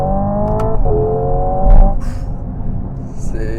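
A Hyundai IONIQ 5 N, a 650-horsepower electric car with simulated automatic gear changes, accelerates hard, its rising synthetic engine tones stepping up through shifts over a steady road rumble, loud and close.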